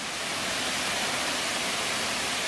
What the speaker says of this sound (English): pretty amazing waterfall, this one